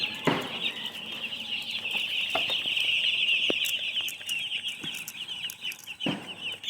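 Broiler chickens in a poultry farm keep up a dense, continuous chorus of clucking and chirping, with occasional sharper calls and scattered thumps throughout.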